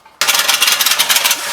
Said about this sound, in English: I love rattle guns.